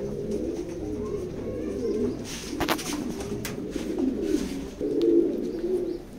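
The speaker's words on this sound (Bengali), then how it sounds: "নরটা একটা ভালো একটা নর, লং এর কবুতর এটা।" Pigeons coo steadily in a pigeon loft, a low, throaty, rolling murmur from several birds close by that overlaps and swells near the end, with no talk.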